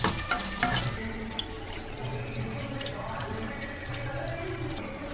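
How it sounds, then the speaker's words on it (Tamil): Water runs steadily into tamarind in a home kitchen while garlic kuzhambu is being made, a continuous splashing and gurgling pour lasting about five seconds with small bursts at the start. "எதுக்குமா அவ்வளோ புளிக்கு இவ்வளோ தண்ணி ஊற்றுறீங்க?"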